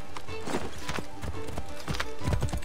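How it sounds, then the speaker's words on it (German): Hooves of a summoned horse clip-clop as it arrives in the Assassin's Creed 3 video game, a quick run of close, hollow hoofbeats, faintly mixed with a brief whinny. "Unser Pferd rufen."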